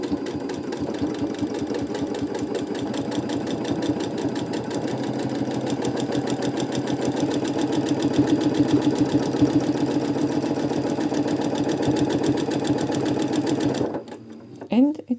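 A sewing machine stitches a free-motion feather quilting pattern through a quilt sandwich, running with a steady fast mechanical whir and needle rhythm that speeds up slightly before stopping near the end, with a voice talking over it.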